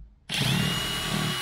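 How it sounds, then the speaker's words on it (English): Power drill driving a standard screw into an RV floor to secure a sofa, starting abruptly and whirring loudly and steadily up close for over a second, no talking. "Let's go back to the drill."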